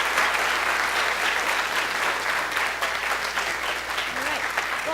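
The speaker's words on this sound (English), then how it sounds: "Big round of applause." An audience applauds after a seminar talk, dense sustained clapping from a crowd that holds steady for several seconds at full strength.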